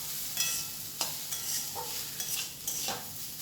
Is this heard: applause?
no